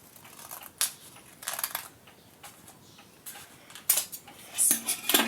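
Craft paper or card being cut for a handmade DIY pouch, heard as several short crisp snips and rustles in separate bursts, close and fairly quiet with gaps of near-silence between.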